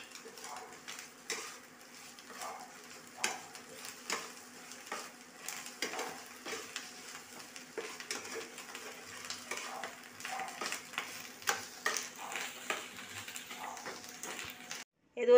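Food frying on an induction cooker as it is stirred, with quiet sizzling under repeated scraping and clinks of a utensil against the pan, fairly faint and close.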